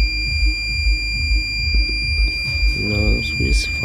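A homemade security alarm buzzer sounds with steady high-pitched tones throughout, and a person speaks briefly near the end.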